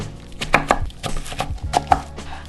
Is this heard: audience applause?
no